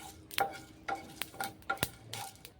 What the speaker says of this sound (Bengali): খুব হালকা করে ভেজে নিয়ে এটাকে আমি একটা গুঁড়ো পাউডার তৈরি করব